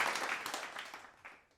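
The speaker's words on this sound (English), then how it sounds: "just applaud Sherry now" A brief burst of applause from a small crowd, fading quickly to quiet.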